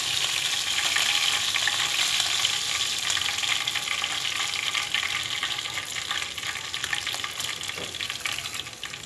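Hiwas fish fry in hot oil in a pan, a dense, steady crackling sizzle close up that hardly changes over several seconds, with no one speaking.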